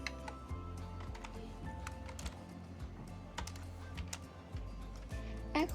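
Steady, close typing on a computer keyboard, with quick irregular key clicks running throughout and no voices.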